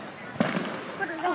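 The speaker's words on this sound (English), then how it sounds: "Oh, another firework." A single Fourth of July firework pops once, a brief sharp crack with a short tail, with people talking around it.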